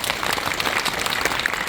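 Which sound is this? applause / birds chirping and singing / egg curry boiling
applause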